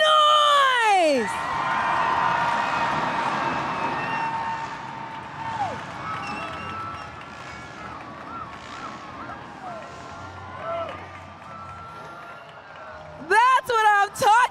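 A Monster Jam arena crowd in Buffalo roars and whoops at a freestyle motocross show, a broad swelling wash of cheering with whistles, then sudden loud bursts of noise near the end.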